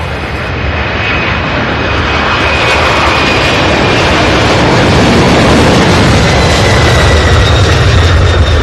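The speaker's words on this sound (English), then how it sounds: "Beautiful takeoff, my goodness." A UPS MD-11 jet roars loudly and continuously on its takeoff from runway 17, the broad engine rumble building slightly and holding strong throughout without any talk.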